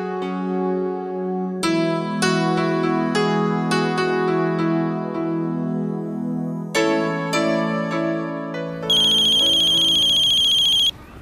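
Phone ringtone playing a repeated melodic tune, loud and clear with sustained tonal notes, rising into a brighter, higher ringing pattern near the end, with no talking over it.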